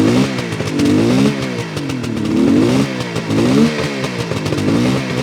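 A 1972 Suzuki GT550J motorcycle engine running close by, its revs rising and falling in a steady repeating surge with mechanical clatter, and no talking.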